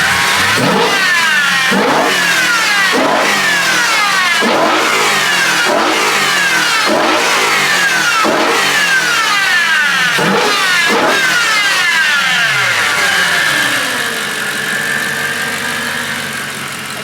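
A BMW E92 M3 with a carbon intake, revving repeatedly in sharp, rhythmic blips, each rising and falling quickly with loud intake roar, before settling into a lower, steady idle near the end.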